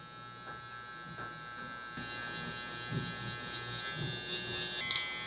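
Electric hair clippers buzz steadily and close while cutting curly hair in a blowout taper, with a constant hum, soft rhythmic strokes and a few sharper clicks toward the end.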